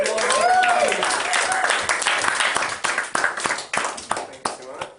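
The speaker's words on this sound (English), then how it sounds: "please guys, give a massive round of applause." An audience at a conference talk on emotional intelligence bursts into loud applause mixed with voices and cheers, then thins into scattered individual claps toward the end.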